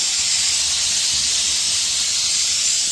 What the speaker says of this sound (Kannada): ಇದು ಒಂದು ವಿಷಲ್ ಆಯಿತು ಆಫ್ ಮಾಡ್ಕೊಳ್ಳೋಣ